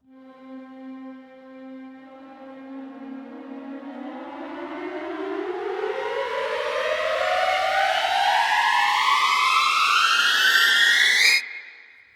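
A keyboard-played string glissando riser sweeps steadily upward in pitch from a single note, growing louder and brighter over about eleven seconds before cutting off abruptly.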